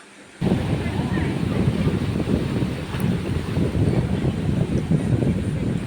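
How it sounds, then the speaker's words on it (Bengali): Sea waves roll onto the beach at Digha Mohana as a loud, continuous broadband roar mixed with heavy wind buffeting the microphone. "কি সুন্দর জলোচ্ছ্বাস, তারপর ঢেউ কাছে চলে আসছে"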